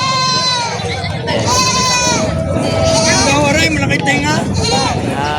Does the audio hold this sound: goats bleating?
yes